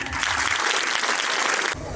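A crowd at a women's health camp in a village breaks into brisk applause, dense clapping throughout that cuts off abruptly near the end.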